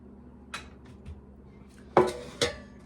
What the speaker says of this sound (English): I'm gonna put half of this in my pan